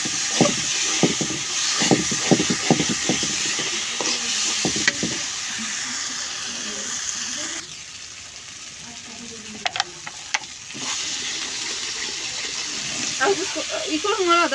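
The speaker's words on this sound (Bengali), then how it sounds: "ওই যে আমার মাছের তরকারিটা বলক আসুক, আমি যে ঢেকে দিলাম" Fish curry cooking in a pot gives a steady frying sizzle and hiss with stirring clatter before a lid goes on, after which the bubbling quiets, then rises again, with someone speaking at times.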